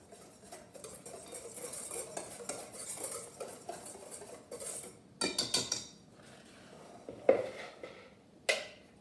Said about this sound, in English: we'll just whisk that all together